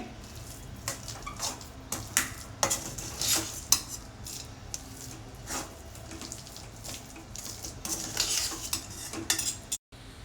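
Gongura pickle mixed with a spoon in a bowl, repeated close scraping and clinking of metal against the dish in an uneven rhythm, with soft wet stirring sounds and no voices.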